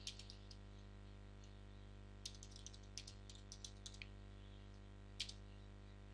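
Typing on a computer keyboard to enter a URL, with quiet clusters of clicky keystrokes in short irregular bursts over a steady electrical hum, no talk.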